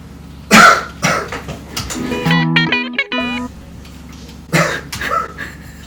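A few loud, harsh coughs up close, with a brief electronic, tonal warble between them and another short cough burst near the end.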